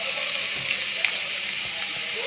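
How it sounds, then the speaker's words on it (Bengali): Garlic, ginger and green chili pieces fry in hot oil in a pan, a steady broadband hiss of sizzling with a couple of faint clinks, continuous and fairly close. "আর দিয়ে দেব রসুন কুচি, দিয়ে দেব আদা আর লঙ্কা কুচি, দিয়ে আমরা ভালো করে ভেজে নেব"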